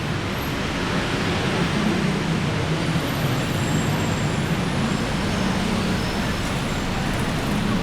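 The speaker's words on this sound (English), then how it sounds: "Now this traffic here is another story." Road traffic in Bangkok forms a dense, continuous roar of cars, buses and trucks, loud and unbroken, with faint high whines drifting above.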